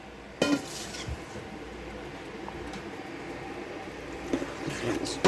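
Dill pickle relish with spices stirred in a pot, a spoon clinking and scraping against the pot a few times over a steady low bubbling background, close by.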